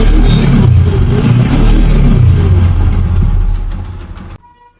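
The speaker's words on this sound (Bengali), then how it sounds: "তো বাইকের সাউন্ডই তো শুনলেন আপনার। ইঞ্জিন থেকে খুব যে একটা খারাপ সাউন্ড আসতেছে তা না" A motorcycle engine with a slightly weak timing chain after more than 80,000 rides runs at a loud, steady idle with low rumbling and a faint rattle, then cuts off abruptly near the end.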